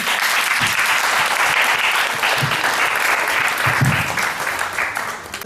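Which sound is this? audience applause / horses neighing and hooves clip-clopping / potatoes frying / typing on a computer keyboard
audience applause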